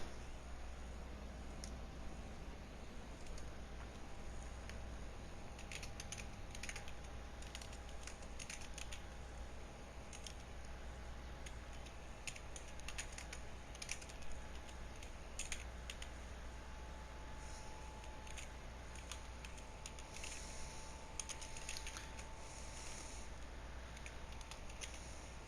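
Someone types a congratulation message on a computer keyboard, giving faint, irregular key clicks in scattered clusters over a low steady hum, with no talking.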